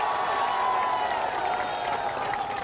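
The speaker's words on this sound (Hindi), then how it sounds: "तालियों के साथ स्वागत कीजिए इनका।" A television debate studio audience applauds to welcome a guest, a dense, steady burst of clapping lasting a few seconds, close and loud with no talking over it.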